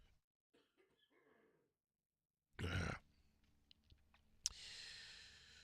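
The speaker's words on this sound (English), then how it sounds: "Gonna cough." A single sharp, close cough bursts out after quiet breathing, followed by a few soft clicks and a sustained rushing hiss.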